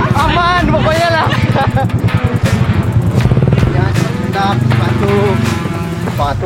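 A motorcycle labours along a steep, rocky mountain track with a rough engine note and clattering over stones, heard loud and close while voices talk over it throughout.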